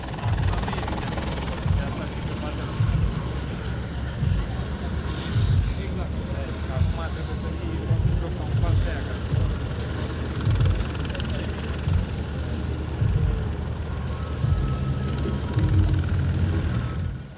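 An EC-120 Colibri training helicopter at an airshow in Romania gives a steady, moderately distant rotor and engine drone throughout, with a voice narrating over it.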